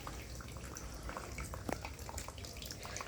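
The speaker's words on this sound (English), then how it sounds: "So the pump pulls the water up and it falls into this place where there are holes." Water lifted by a small submersible pump trickles and drips through holes in a container, a faint steady patter with a few louder drops.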